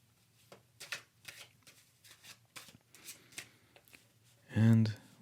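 Tarot cards are shuffled and handled during a reading, a series of soft riffling and sliding bursts close by, ending in a louder brief thump as a card is set down.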